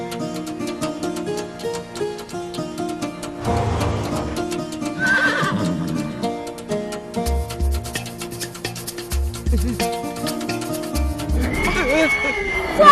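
A horse in an animated story, heading toward an enemy camp, neighs loudly over dramatic music, with hoof clip-clops and other effects mixed in.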